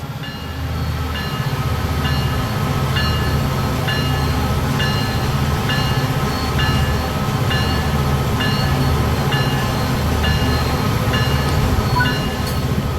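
A train in Train Sim World 3 rumbles steadily over the rails with a continuous low mechanical drone and a repeating rhythmic clatter. There is no talk.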